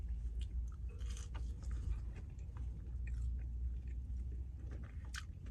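Close-up chewing of a hash brown during a mukbang, with soft wet crunches and repeated bites against a low steady background hum, and no talking.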